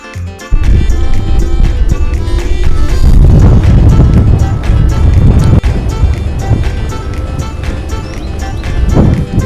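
Strong wind buffets an outdoor microphone in Germany near the Danish border, a loud, continuous low rumble with gusting swells that dominates throughout with no other clear sound.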